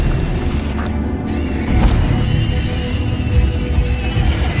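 An Incendio fire spell is cast in Hogwarts Legacy, heard as a sharp whooshing burst amid dense, loud combat noise and rumbling effects.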